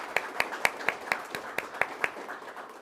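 A conference audience applauds a speaker after a talk, with roughly nine distinct claps in a steady rhythm, fairly faint and from across a room, thinning out toward the end.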